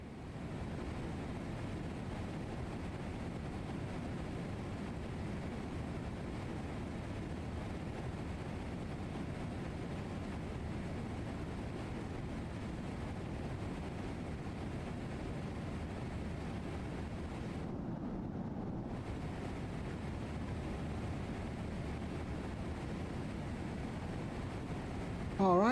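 A Boeing 777F climbs in a flight simulator on a FedEx run from Memphis to Portland. It gives a steady, low engine and airflow rumble that stays constant and faint throughout, with no clear voices over it.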